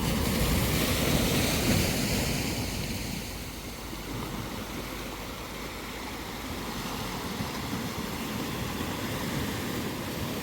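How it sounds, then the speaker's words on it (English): Waves wash continuously onto Lagoon Beach in Lakshadweep with a steady roar and light wind noise, no voices, the surf easing slightly midway. "So this beach is called Lagoon Beach."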